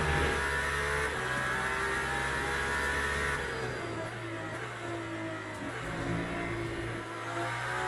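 An Aston Martin race car in the Le Mans Ultimate racing game at Qatar holds a steady engine drone throughout, loud and continuous, with the pitch shifting slightly partway as it runs toward the line.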